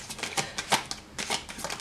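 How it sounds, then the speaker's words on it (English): Tarot cards being shuffled by hand, quick riffling bursts in short clusters, close and fairly quiet. "These cards were not designed, for shuffling like this"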